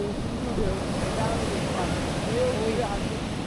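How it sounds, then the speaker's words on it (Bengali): Ocean surf at Gopalpur beach on the Odisha coast, a steady broad wash of breaking waves with gusty wind noise across the microphone, continuous and fairly loud throughout. "বড় ঢেউ আসছে।"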